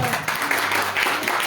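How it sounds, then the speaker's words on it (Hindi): A church congregation breaks into applause, a brief burst of many hands clapping together with some voices mixed in. "जो दर्जा तालियां दो।"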